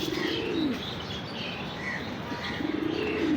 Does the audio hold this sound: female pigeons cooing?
yes